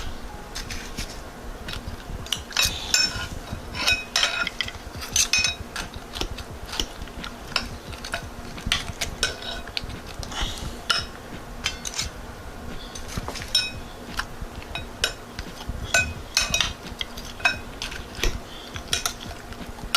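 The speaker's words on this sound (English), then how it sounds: "we're going to put the chicken wing in and keep doing that until we get them all covered with barbecue sauce" Metal spoon scraping and clinking against a pan while coating chicken wings in barbecue sauce, with irregular close taps and scrapes coming in quick bursts.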